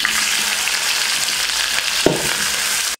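Large onions fry in hot oil with cinnamon and cardamom for Ramzan nombu kanji, giving a loud, dense, continuous sizzle with a single sharp clack of a utensil near the end.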